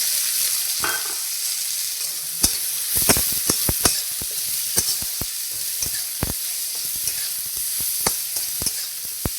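Onion and green chilli sizzling in hot oil for lentil dal, a constant close hiss dotted with sharp crackles and pops from stirring, with no speech.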